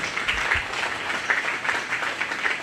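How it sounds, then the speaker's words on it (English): Dense, steady applause from a county fair crowd as a grand champion market goat enters the show ring, continuous clapping at moderate volume with no voices standing out. "let's give her a round of applause as she enters the ring"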